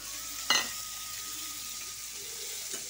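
Onions frying in fish oil in a wok give a steady, close sizzle throughout, broken by a sharp clank near the start and a fainter knock toward the end.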